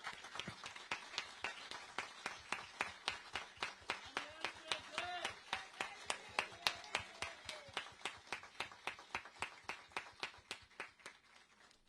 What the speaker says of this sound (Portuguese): eu queria só convidar todos nós para uma salva de palmas para o IBGE, para os quilombolas e para a Marielle.